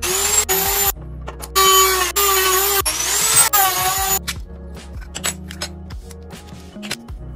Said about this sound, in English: PCB module cannot be taken out, so we can only continue to cut the shell.